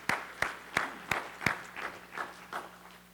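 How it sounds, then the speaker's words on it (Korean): A church congregation claps during a sermon, giving about eight faint, evenly spaced claps over a low background hum. "우리 하나님 옆에 영광의 박수를."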